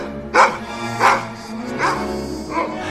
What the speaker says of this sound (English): We also have the really strange barking scenes that I mentioned before.